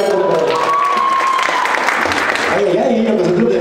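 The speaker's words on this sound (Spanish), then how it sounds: "Fuerte aplauso" Audience applause at a community integration event in Sillustani, steady dense clapping from a crowd with some cheering, loud and continuous throughout, with voices audible underneath.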